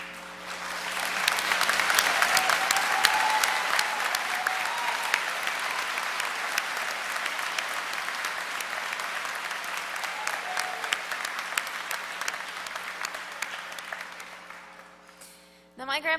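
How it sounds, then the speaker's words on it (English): Sustained audience applause for military veterans standing at an Academy Awards ceremony, broad and dense clapping that swells quickly, holds steady for about fourteen seconds, then fades. "can we give them all a round of applause and thank them for their service"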